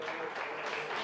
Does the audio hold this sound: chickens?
no